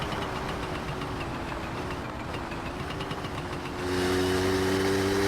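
A car engine in the driving game My Summer Car runs steadily at idle with a low, knocking rumble, then the pitch and loudness step up near the end as it revs harder, heard alone without talk.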